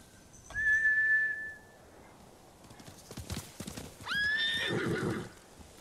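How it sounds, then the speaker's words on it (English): Samurai horses in Ghost of Tsushima whinny loudly twice, with a galloping clip-clop and hoof thuds in between, all close and clear with no talk over them. "Bastards scared off the horses. They're samurai mounts, trained to return to their masters."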